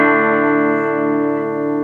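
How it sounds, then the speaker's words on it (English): An Epiphone Les Paul Gold Top electric guitar played through a Vox AC4TV amp rings out as a single sustained, full chord that holds steady and slowly decays over about two seconds. "I am playing my Epiphone Les Paul Gold top into a Vox AC4TV, and it sounds like this."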